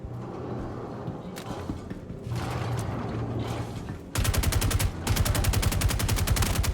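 Rapid gunfire from a gun in the Star Citizen video game, a fast regular stream of loud close shots in two bursts after a stretch of mechanical game noise.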